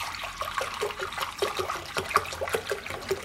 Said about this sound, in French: On va prendre un bol qu'on remplit de vinaigre.